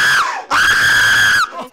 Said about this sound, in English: Stop screaming! Stop!